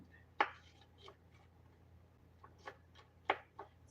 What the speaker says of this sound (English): onions getting cut up